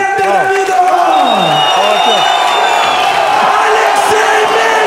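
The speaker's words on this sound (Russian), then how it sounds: "Аплодисменты Давидову!" Crowd at a TDFC bare-knuckle fight event cheers, whoops and claps amid the noisy hall while an announcer speaks loudly over the steady roar.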